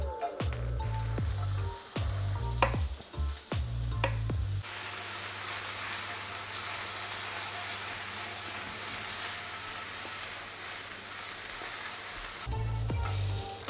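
Chopped onion sizzles in a pan, first broken into a few loud clattering bursts as it is tipped in, then settling into a steady, close hiss of frying before a final clatter at the end.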